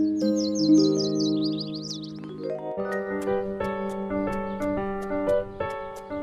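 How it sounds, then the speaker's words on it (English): Quick high bird chirps trill through a forest at the start, then fade into soft, sustained musical tones that carry on steadily to the end. "Birds sang sweet songs."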